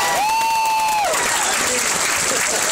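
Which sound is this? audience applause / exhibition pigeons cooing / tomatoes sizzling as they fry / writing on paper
audience applause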